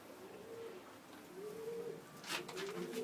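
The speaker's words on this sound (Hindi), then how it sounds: "ये लाल कबूतर है, ये फरीदाबाद से लाए थे हम।" A red pigeon, brought from Faridabad, gives soft repeated coos in quiet rising-falling phrases, close but faint, with a brief rustle or flutter near the end.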